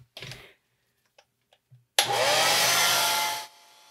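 A hair dryer switches on and blows steadily for about a second and a half to dry watercolor paint, loud and close, after a few faint brush and table taps, then cuts off.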